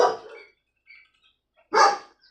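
A dog barks close by, two sharp loud barks about two seconds apart with quiet between them.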